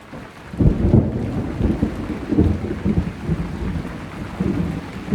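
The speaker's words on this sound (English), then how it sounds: "And we got some storms." A thunderstorm rumbles with several low, rolling peals of thunder close together over a steady wash of rain, the booms swelling and fading in waves.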